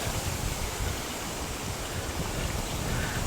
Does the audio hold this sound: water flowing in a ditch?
yes